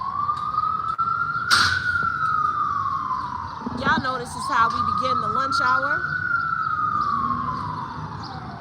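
Police sirens wail outside a courthouse at lunch hour, a rising and falling tone with a brief yelp burst, fairly close, as a person talks over part of it.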